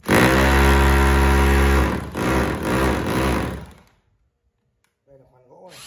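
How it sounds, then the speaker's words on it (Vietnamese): A secondhand 220 V three-function electric drill hammers loudly in concrete-drilling mode with a heavy buzzing rattle that pulses and winds down, followed by silence and a voice speaking. "Đây, đây là khoan bê tông này."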